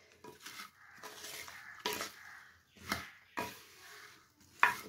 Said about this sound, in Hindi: मटर लिए, शलजम लिया और प्याज, ये सारी सब्जियां हमने ऐड कर दी और अब हम मिक्स कर लेंगे